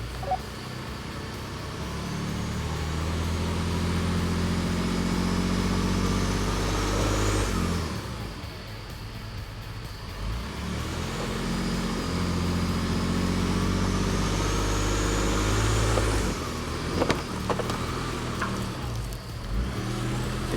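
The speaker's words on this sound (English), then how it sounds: "So go ahead and give a slight amount of throttle and see if we get them up on it." A campervan engine throttles to climb onto off-road traction boards during a recovery, a close, steady low engine drone that rises twice in revving surges and then drops, with a few clunks near the end and no talk.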